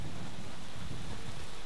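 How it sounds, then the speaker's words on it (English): Heavy rain pours steadily in Red Dead Redemption 2, a dense, loud hiss with low rumbling thunder underneath and no voices. "You were right about the damn rain."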